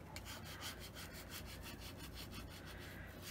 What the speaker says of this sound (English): just make sure you rub over the whole design